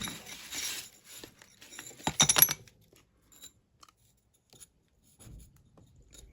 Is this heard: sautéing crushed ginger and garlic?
no